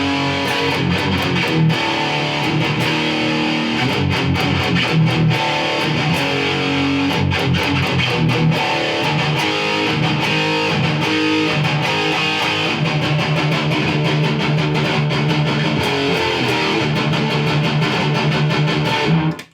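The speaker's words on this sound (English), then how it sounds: "Play a lot of riffs that sound good in this distortion level." Dense, continuous distorted electric guitar playing riffs through a Marshall JCM800 tube amp, loud and sustained with thick harmonic texture and sharp picking throughout.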